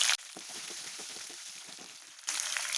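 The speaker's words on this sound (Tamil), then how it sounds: "இப்போ இதில் இடித்த பூண்டும் கட் பண்ண வரமிளகாயும் சேர்க்குறேன்." Crushed garlic and dried red chillies sizzle in hot oil for a temple-style tamarind rice, a steady soft frying hiss close by, no voices.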